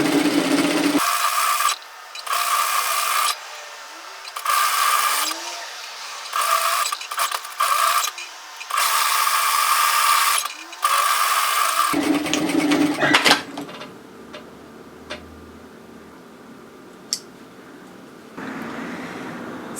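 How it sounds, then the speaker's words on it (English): A home sewing machine runs in repeated bursts, stitching a second row parallel to the first on a fitted tee, each run a steady buzzing whir separated by short pauses, close and loud, followed by quieter handling rustles. "I've decided to sew a second row of stitching close to my first, parallel to it"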